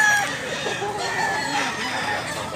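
A Dr. Blues bloodline rooster crows in one drawn-out call, fairly close, with clucking from other fowl and faint background noise around it.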